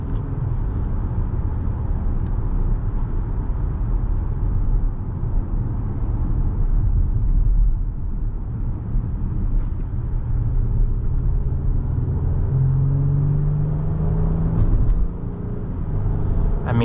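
Interior drive in a 2024 Acura MDX SH-AWD SUV, a continuous low road and engine rumble that swells slightly as it accelerates, heard from inside the cabin.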